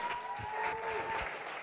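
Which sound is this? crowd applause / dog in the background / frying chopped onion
crowd applause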